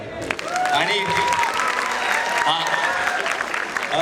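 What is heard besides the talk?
audience applause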